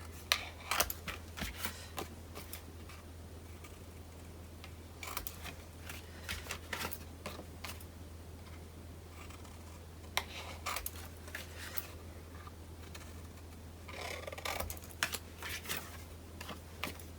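Paper being cut with scissors while trimming the corners of a page for a Cosmos Infinity piece, with quiet snipping strokes scattered through the clip over a steady low hum, no talking.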